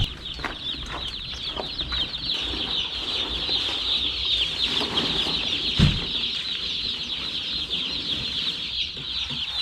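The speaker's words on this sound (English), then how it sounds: "our chicks are here, so it's time to put them in the brooder" Newly shipped baby chicks in a brooder house keep up a constant, dense chorus of high peeping, with occasional flutters and soft scuffling close by.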